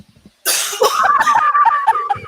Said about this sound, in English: I want to cough right in the mic